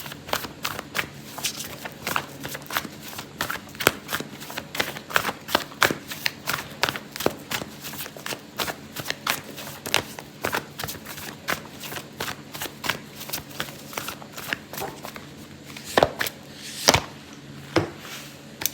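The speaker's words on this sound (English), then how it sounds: "I'm going to pull out an oracle card for you" Oracle cards being shuffled by hand during a tarot reading, a steady run of crisp riffling snaps and soft slides repeating for many seconds, close and fairly quiet with no talking.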